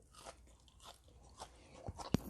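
Crunchy breakfast food, including Krispy Kreme donuts, being bitten and chewed close to the microphone: soft, irregular crunching bites ending in one sharp, louder crunch.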